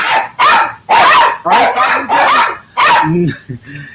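Several dogs bark eagerly, wanting to go outside: a close, loud burst of about six rapid barks in an uneven rhythm, ending in softer whines and yips.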